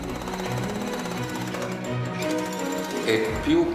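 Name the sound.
jackhammer demolishing a house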